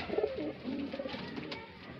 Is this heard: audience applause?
no